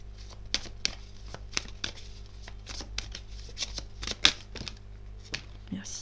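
Tarot cards being shuffled and flipped over, a series of soft papery snaps and slaps at an uneven pace, with a steady low hum underneath.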